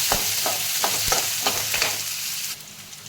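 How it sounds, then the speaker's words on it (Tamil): Onions and green chilies sizzle in hot oil in a pan for a cabbage stir-fry, loud and close, with a series of regular stirring scrapes of the spatula through the frying. "இப்போ நம்ம வெங்காயத்தூள் சேர்த்து வெங்காயம் நல்லா செவந்து கிடக்கும்"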